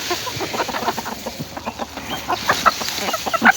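Hens on a small farm cluck busily while pecking at fresh feed, a dense run of short close clucks and chatter that grows louder and more crowded toward the end, with no talking.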